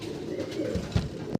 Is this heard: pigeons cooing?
yes